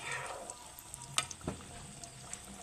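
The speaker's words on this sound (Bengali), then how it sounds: "এইবার আমি ডালগুলো কড়াইতে দিয়ে দেবো।" Lentils for dal chanachur deep-frying in a wok of oil, a soft continuous sizzle with a few small pops and clicks scattered over it, near and fairly quiet, no voices.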